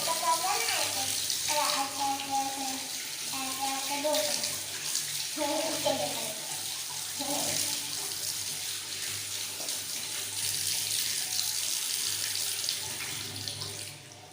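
A household water tap runs steadily while something is washed, a constant close rushing hiss lasting throughout, with voices, including a child's, talking over it early on.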